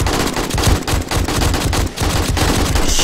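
Rapid automatic gunfire rattles in the 7 Days to Die video game, with loud, close bursts of shots firing in quick succession and brief pauses between them.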